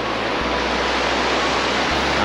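The Trisuli river in Nuwakot rushes loudly and continuously, a steady broadband roar of fast-flowing water with a low rumble, close and dominant throughout with no voices.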